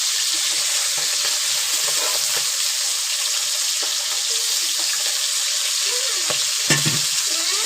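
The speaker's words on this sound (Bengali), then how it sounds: "তো মাছটা এক পিঠ ভাজা হয়েছে, আমি আরেক পিঠ উল্টে দেবো ভাজার জন্য।" Tengra fish frying in a pan, a steady bright sizzle filling the clip with light scraping and stirring clicks over it, close and loud throughout, no talking.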